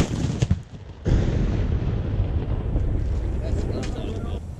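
A Civil War cannon built in 1865 fires with one sudden heavy boom near the start, followed by a long rumbling roar and outdoor noise that fills the rest of the moment.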